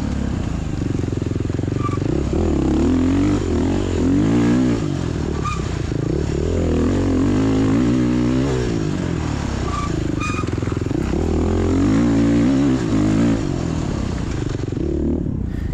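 A dirt bike tears through fresh woodland trail during a cross-country race. Its engine snarls and revs continuously and close, rising and falling with the throttle, with occasional clatter from the terrain.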